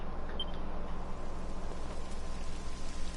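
Steady rain hisses over a Dragon Quest XI game landscape, a dense, even wash of falling drops with no talking.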